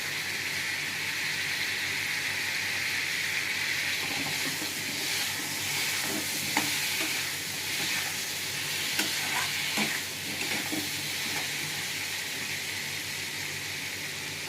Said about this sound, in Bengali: মশলাটা আমি ভালো করে কষে নেবো।